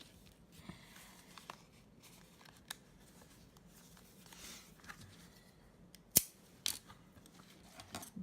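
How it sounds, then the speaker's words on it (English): Quiet, sparse snips of small scissors cutting paper, a few isolated clicks and one sharper cut near the end, close by in a still room. "Take my little scissors and I'm going to finish cutting this out."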